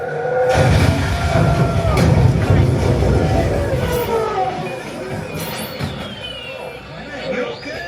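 Murmuring crowd waiting for a concert on the Rock 'n' Roller Coaster Starring The Muppets ride at Hollywood Studios, a steady babble of many voices under clearer speech, with occasional thumps and whooshes from the ride's effects.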